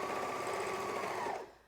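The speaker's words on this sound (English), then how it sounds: "the serger is trimming off all of this extra, giving me a nice straight edge." A serger trims excess fabric off an edge while sewing shorts, giving a steady, close, continuous high-speed machine whir that winds down at the end.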